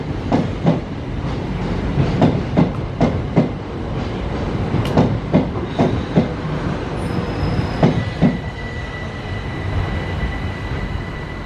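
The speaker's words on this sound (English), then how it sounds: "Three-nine-five approaching Dover Priory for Ramsgate" A passenger train draws into Dover Priory station on the Ramsgate service, with a steady rolling rumble, repeated clickety-clack wheel beats over rail joints and a thin wheel squeal near the end, heard close with no talk.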